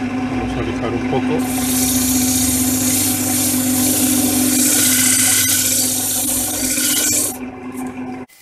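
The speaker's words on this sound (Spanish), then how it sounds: "Vamos a lijar un poco." Loud, steady abrasive hiss of sandpaper against a workpiece spinning on a lathe over a humming motor, holding for several seconds before cutting off.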